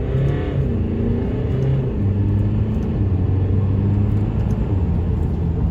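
An Alfa Romeo Giulia (2022) accelerates hard with its turbo, a steady close engine drone climbing through gear changes with rising harmonic bands, continuous and loud, with no talk over it.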